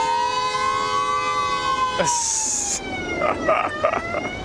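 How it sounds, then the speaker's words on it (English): A police car siren wails steadily in stalled traffic in Belgium, with a brief sharp electronic burst partway through and rumbling street noise underneath. "Look at this police car trying to get through these cars that just, like, won't move."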